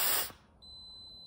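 Isuzu Trooper oil pressure warning buzzer, a thin steady high-pitched tone that starts after a brief hiss of spray and holds on continuously.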